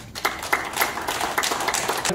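Audience applause at a forum in the National Assembly members' office building marking 30 years of Korea–China diplomatic ties, heard as close, loud clapping with distinct individual claps over roughly two seconds.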